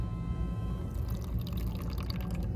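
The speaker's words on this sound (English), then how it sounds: "this will probably be the final rinse that I do here" Water splashes and trickles in a glass beaker being rinsed during gold refining, soft irregular drips and pours over a low background rumble.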